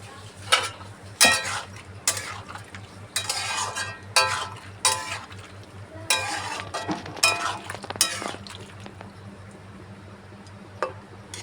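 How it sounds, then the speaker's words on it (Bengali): Poppy seed paste goes into boiled potatoes in a pan, with a series of wet squishing scrapes and utensil clinks against the pan over a low steady hum, close and intermittent. "এই যে আমি আমার পোস্ত বাটাটা দিয়ে দিলাম"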